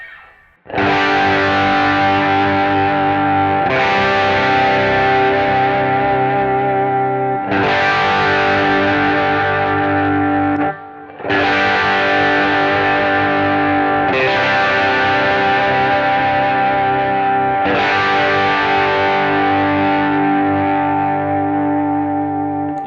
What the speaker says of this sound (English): Play some chords maybe, and let's hear the Klon with some chords.